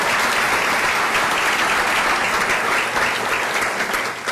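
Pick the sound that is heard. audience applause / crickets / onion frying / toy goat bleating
audience applause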